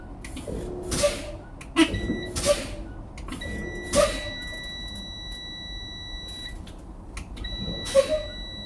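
A school bus's low air pressure warning buzzer sounds steadily and high-pitched in long stretches at 60 psi, broken by brief gaps, over a low engine hum with occasional hisses of air.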